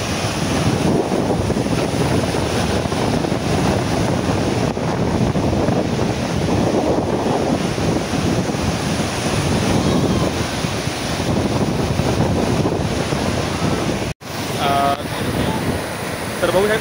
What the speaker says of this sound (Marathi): समुद्राच्या मोठ्या लाटा आता सर्व उचलत आहेत इकडे.